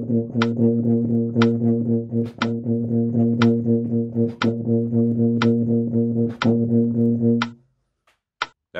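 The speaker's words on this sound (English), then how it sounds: "Now you'll notice I was breathing after the fourth 16th of the beat" A woodwind or brass instrument plays steady 16th notes at a slow tempo, bright repeated tones in even groups broken by short sharp breaths roughly every second, then the playing stops and only faint breaths remain.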